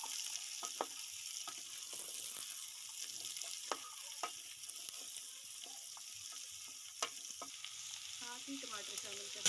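Cauliflower frying in desi ghee with browned onions in a village kitchen, a steady close sizzle with scattered sharp crackles and a few spoon clicks.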